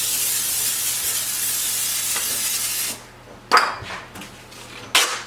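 Diced onions hit a hot pan and begin to sizzle for a turkey kielbasa and potato meal prep, a steady close hiss that drops away, then two sharp sizzling bursts follow.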